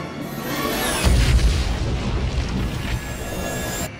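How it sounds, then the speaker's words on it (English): A self-destructing aircraft blows up with a dull, rumbling boom that swells, then fades into a long sustained roar, heard at a distance with no voices. "She self-destructed."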